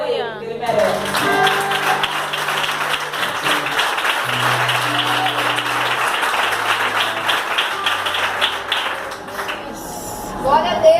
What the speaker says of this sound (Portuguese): Aplauda ele, Aleluia. que ele merece.